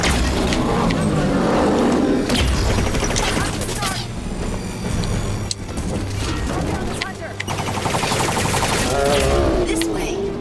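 A Hunter enemy firing its heavy weapon in Halo 5, with loud bursts of gunfire, roaring blasts and clattering combat noise rolling through a dense battle mix, with speech mixed in at times.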